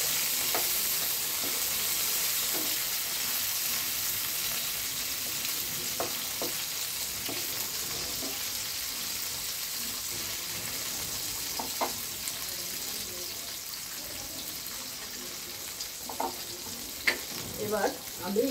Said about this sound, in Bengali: এবার আমি পটলগুলোকে এক এক করে ভেজে নিচ্ছি